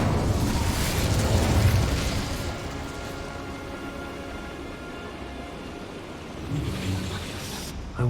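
Incendio fire spell in Hogwarts Legacy, a sustained roaring whoosh of flame that swells, settles into a steady rushing crackle, then flares again near the end, with no talking.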